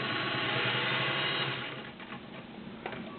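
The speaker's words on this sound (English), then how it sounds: "Touch and sews are a little noisy, and this one's no different." Singer 600 Touch & Sew all-metal gear-driven sewing machine running a straight stitch, a steady loud mechanical whir that eases off after about a second and a half, leaving lighter clicking and rattling.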